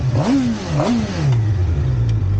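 A 2021 Suzuki GSX-R600 100th anniversary edition sport motorcycle engine revs up twice in quick succession, then settles into a steady rumbling idle, loud and close.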